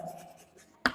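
A pen or marker writes a statement on a board in a physics lesson on light interference, a soft scratching stroke at close range followed by a sharp tap at the end.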